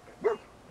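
A single short dog bark sounds in the Fallout 4 video game, one quick moderately loud yelp standing out against quiet background ambience.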